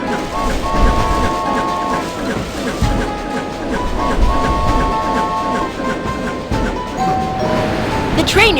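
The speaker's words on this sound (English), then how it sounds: "The train is approaching Desert Slope." Train rolling on rails in a BabyBus kids' video game, a continuous rumbling clatter with rhythmic wheel thumps and a tonal hum, fairly loud and steady from start to finish.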